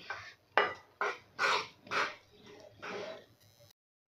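A spoon stirs a bajra (pearl millet flour) mixture in a hot pan with the gas off, making a series of rhythmic scraping strokes about every half second, close and fairly quiet, with no talking.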